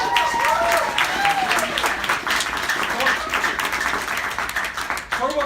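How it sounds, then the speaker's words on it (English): A round of audience applause in a youth-speaker event, brisk clapping with whoops and cheers mixed in, steady across the whole stretch and fading slightly near the end. "let's give that a round of applause"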